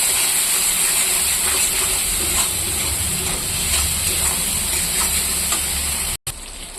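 Turmeric, chili powder and salt fry in oil in a pan for paneer fry, making a steady close hiss and sizzle with faint stirring scrapes, cut by a brief dropout just before the end.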